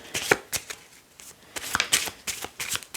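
A deck of tarot cards is cut and shuffled by hand, with a quick run of close, crisp riffling slaps and card flicks in irregular bursts.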